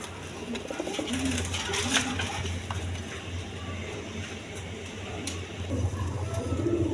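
Pigeons in a farm loft, several birds cooing softly and repeatedly over a steady background hum, close and continuous.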